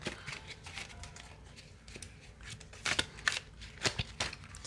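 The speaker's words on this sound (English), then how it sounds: "So many cards, so hard to shuffle these." A deck of tarot cards is shuffled by hand in a series of quick riffling bursts, close and crisp, growing louder and more clustered toward the end.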